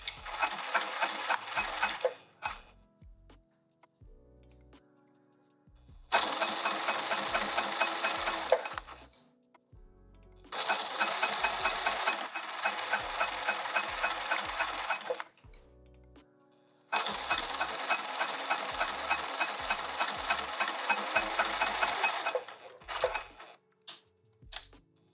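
Sewing machine stitching fabric for a coffee press cozy, running in several bursts of rapid rattling stitches separated by quiet pauses with soft clicks and handling.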